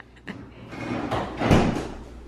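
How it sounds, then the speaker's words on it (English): A fridge door swings shut in a kitchen, a soft rustle and creak building to a muffled thud about midway, close and moderately loud, with no voices over it. "Closing the fridge door!"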